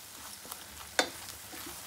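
Curry gravy for an Andhra-style gokarakaya dry curry frying in a pan while being stirred, with a soft steady sizzle and one sharp scrape of the spoon midway.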